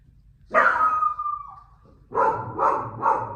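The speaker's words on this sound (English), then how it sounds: "I'm sorry, my dog." A dog gives one long, drawn-out bark or yelp, then three quick barks close by, in a quiet indoor space during a kitchen countertop project.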